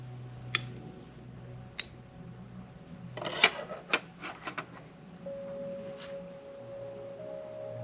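Pruning shears snip through a potentilla bonsai branch with a few sharp clicks and crisp cuts, followed by small rustling and handling noises close by in a quiet room.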